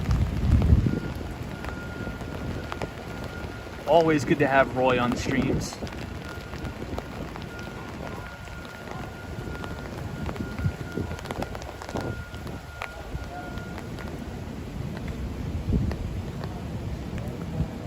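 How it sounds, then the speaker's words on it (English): Rain falls steadily on a Manhattan street at night during a storm, a soft constant hiss beneath someone talking, with a brief louder burst of other sound partway through. "Enjoying the discussion and sound of the rain."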